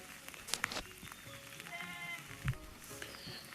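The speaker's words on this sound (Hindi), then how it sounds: "तो ये जो भेड़ बकरी हैं उनको भी शायद सर्दी लग रही है" Sheep and goats bleat in a rainy mountain village in Pakistan, several wavering cries at moderate distance over a soft patter of rain, with scattered knocks and a faint voice nearby.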